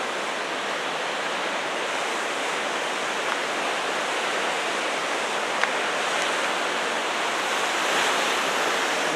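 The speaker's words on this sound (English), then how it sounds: "this is the Pacific Ocean" Pacific Ocean surf at Bodega Bay produces a steady, broad roar of breaking waves that hardly changes in level, with no voices present.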